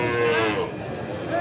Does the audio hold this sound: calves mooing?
yes